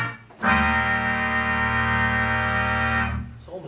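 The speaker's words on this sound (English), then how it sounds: "And then we also have the Barbieri trumpet, which is quite fiery" A fiery Barbieri trumpet stop on a Standaart theatre organ, a post-horn style reed, blares one bright, brassy sustained chord for about two and a half seconds and then releases, with nothing else heard.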